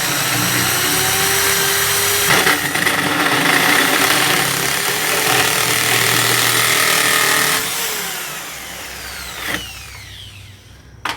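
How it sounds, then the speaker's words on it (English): A power drill whirs steadily and loudly for several seconds, its pitch dipping as it bites into a craft ornament, then winds down and stops near the end. "So take your drill, you put it, line it up vertically, and then you just go."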